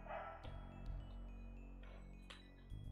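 Dog barking in a spooky trick-or-treat video game, a few sharp barks over a low, steady hum, fairly quiet and not loud, with no talking.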